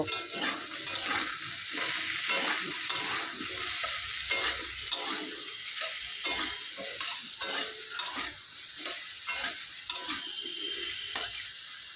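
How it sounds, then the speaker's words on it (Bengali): Soybean chunks frying in a pan with salt and turmeric, a continuous close sizzle overlaid by repeated rhythmic stirring scrapes throughout, with no talking. "নুন হলুদ দিয়ে সোয়াবিনটাকে ভালো করে ভেজে নেব"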